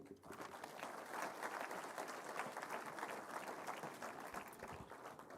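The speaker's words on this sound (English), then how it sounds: "she and her team deserve a louder round of applause" An audience at the India International Conference on Democracy and Election Management breaks into steady, dense applause, a continuous wash of clapping heard from a distance.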